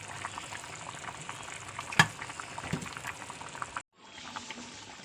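Oil meeting a hot pan for a sardine curry gives a steady, even sizzle with a crackling burst near the two-second mark; it cuts off abruptly for a moment, then resumes more softly.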